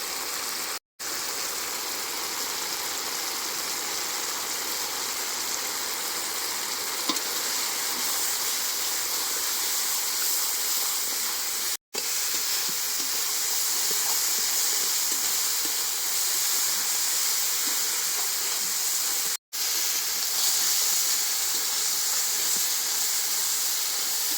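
A constant sizzling hiss of spices and tomato frying in a hot pan for a meat curry, steady throughout and broken by a few abrupt silent cuts.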